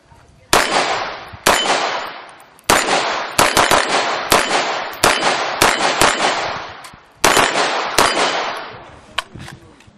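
SPS Invictus rifle test fired, with about a dozen loud, sharp shots in irregular quick succession, each cracking hard and ringing off briefly.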